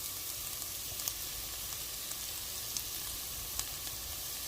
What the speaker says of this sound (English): So I'm gonna fry this for another like 3 to 5 minutes and then add meat.